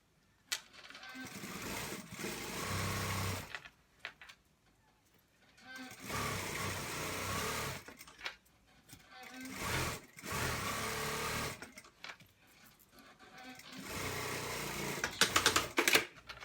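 Several short, uneven runs of a sewing machine attaching elastic to a boys' shorts waistband, with brief stops and rattling handling noises between the stitching bursts.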